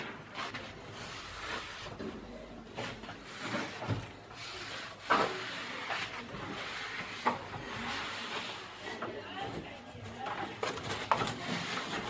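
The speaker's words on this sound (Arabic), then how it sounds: "غنمسح هاد الغبره هنايا باش ما طيح لي على سميتو" Dust is wiped slowly from the seal of a freezer more than 20 years old, giving soft rubbing and scraping strokes with small knocks, close and fairly quiet.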